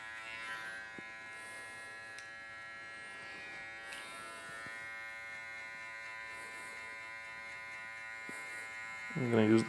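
Electric hair clippers buzz steadily and close up at the 0.5 guard setting, cutting a fade line around the head during a burst fade mullet haircut, with a few small clicks as the clipper moves and a brief louder burst at the end.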